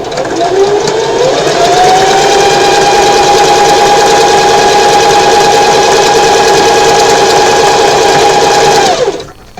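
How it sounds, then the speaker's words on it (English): A sewing machine runs steadily and loudly while stitching fabric for a bow tie, its motor humming continuously for about nine seconds before stopping, with no talking. "lift up your presser foot, and then pivot your fabric, and then continue sewing."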